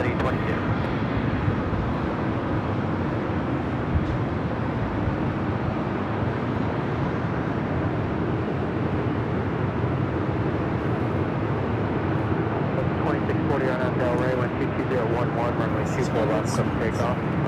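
A jet airliner landing on runway 24 right at Los Angeles International Airport, a loud continuous roar of engines and rushing air that holds steady throughout, with radio chatter and voices over it.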